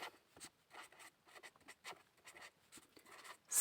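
Chalk or marker scratching on a board while math is written out, short quiet strokes in an irregular rhythm with brief pauses between them, close and faint.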